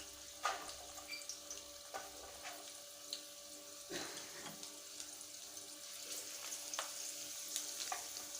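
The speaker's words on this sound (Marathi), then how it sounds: "आता लसूण आपला थोडा परतून झाला आहे यानंतर एक कांदा यात टाकलेला आहे" Crushed garlic and onion fry in oil in a pan for stuffed brinjal, a constant close sizzle with occasional scraping stirs and soft ticks throughout, no voices.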